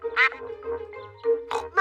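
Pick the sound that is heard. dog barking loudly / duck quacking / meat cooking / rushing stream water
duck quacking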